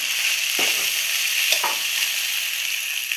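Vegetable fried rice stir-fries in a hot pan, a continuous bright sizzle broken by two scraping strokes of a spatula tossing the rice.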